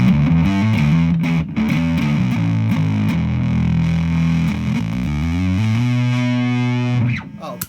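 Bass guitar played through a Fuzz Factory fuzz pedal built with NOS germanium transistors gives a thick, loud, heavily distorted tone, a run of sustained low notes and shifting riffs that fill the whole stretch before cutting off at the end.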